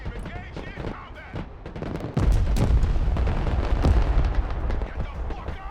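Gunfire and explosions in video game combat, a dense barrage of sharp shots and heavy booms that grows louder and thicker halfway through and then holds.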